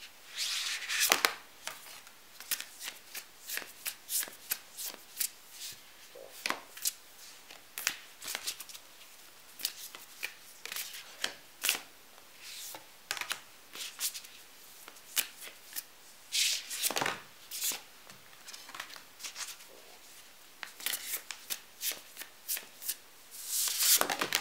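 A deck of tarot-style cards shuffled by hand again and again, with crisp riffling and rustling bursts in an uneven rhythm over about twenty-four seconds, close and fairly loud, with no voices.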